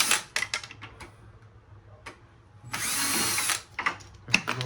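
A power drill whirs in short bursts and one longer run while backing screws out of an old AC unit, with clicks and metallic handling sounds between, fairly close.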